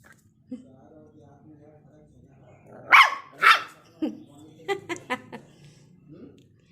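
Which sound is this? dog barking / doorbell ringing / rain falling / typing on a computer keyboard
dog barking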